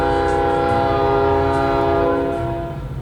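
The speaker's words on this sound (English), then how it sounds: "you can hear the train loud and clear through this roof" A train passes outside, heard through a workshop roof as a loud sustained horn blast with rumbling wheels beneath, fading toward the end.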